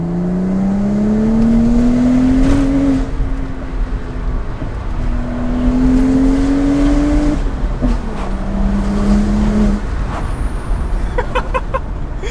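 A stock-turbo BMW E82 135i with full bolt-ons accelerates hard, its engine note climbing loudly through the gears. There are brief dips between pulls, and the steady drone fills the whole stretch.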